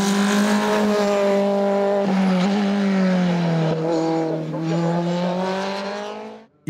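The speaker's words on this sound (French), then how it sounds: "Quatrième victoire de la saison en DE7 pour Marvin Garampon-Brunet, qui triomphe au volant de sa Tatus FR2000." A Tatus FR2000 single-seater race car at a hill climb in Dunières, its loud, sustained engine note holding close by and dipping slightly in pitch before cutting off abruptly at the end.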